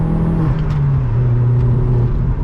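A Vauxhall Astra VXR accelerates hard in third gear on a 70 road, its engine a loud, continuous droning roar heard from inside the cabin, pitch holding fairly steady through the pull.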